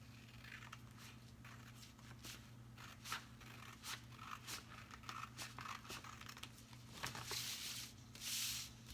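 Scissors snip through craft paper for a DIY Valentine frame, a run of short crisp cuts and crinkles, fairly faint over a steady low hum.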